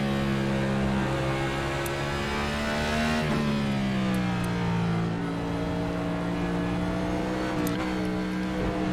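A NASCAR stock car engine in the iRacing sim at Circuit of the Americas, droning loudly and shifting pitch with quick throttle blips on downshifts, plus a few sharp ticks.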